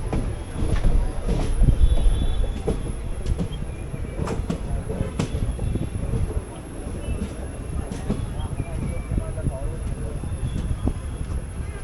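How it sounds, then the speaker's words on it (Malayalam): A crowded passenger train rolls into Vadakkanchery station, with steady rumble and wheel noise, faint clicks and squeals, and voices of people aboard talking underneath. "ജസ്റ്റ് വടക്കാഞ്ചേരി സ്റ്റേഷനിലോട്ട് കയറുന്നു"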